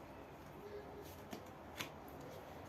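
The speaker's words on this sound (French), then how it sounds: "Je vais prendre une carte pour voir l'issue de la situation." A tarot card is drawn from a deck in a quiet room, making a faint papery shuffle with two soft, brief card flicks.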